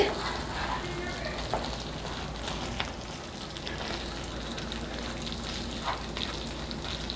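Chicken masala cooking North Indian style, with chilli, turmeric, coriander powder and garam masala stirred into the pan; a continuous close sizzle and frying crackle with scraping stir sounds throughout.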